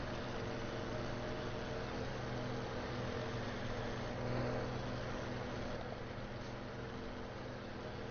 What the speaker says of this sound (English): I wanted to let you hear the actual rev of the tractor